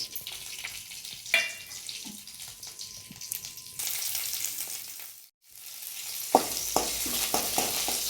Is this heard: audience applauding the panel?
no